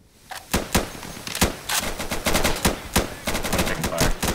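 Rapid gunfire from the tactical shooter Insurgency, Checkpoint mode, with repeated sharp loud shots and bursts clustered through the whole stretch, close and intense, no speech over it.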